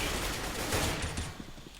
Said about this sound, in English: It is quite loud with all the gunfire around.